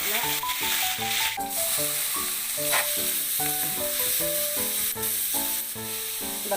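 Grated beetroot hits a hot pan for a no-onion beetroot poriyal, giving a steady loud sizzle and hiss that runs throughout, with sustained melodic background music playing over it.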